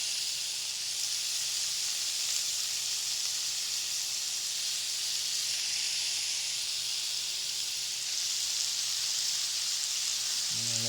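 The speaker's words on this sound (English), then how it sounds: "Gotta love that sizzle sound" Steak bites sear in a hot pan, giving a loud, steady, close sizzle that hisses continuously for the whole stretch with no talking.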